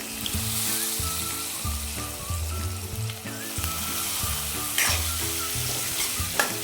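Dried fish (sode) sautéing with tomato in a pan gives a continuous close frying hiss and soft stirring, under steady background music, with no voices.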